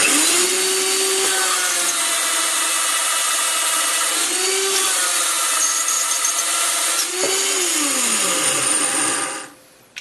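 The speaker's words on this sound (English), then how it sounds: "you put it on a drill, tighten it down, and it's going to get noisy in a second" A power drill spins a 12 gauge shotshell crimper loudly and close, a steady whirring grind with pitch dips under load, then cuts off abruptly near the end.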